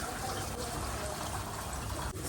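Water from cooked Maggi instant noodles drains through a strainer, a steady close rushing gush that runs the whole time with a brief dip near the end.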